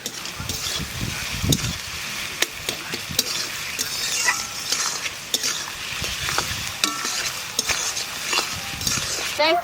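Whole spices, including cinnamon, fry in a pan while a spatula stirs and scrapes, giving a steady sizzle broken by sharp metallic clinks and scrapes, with no voices.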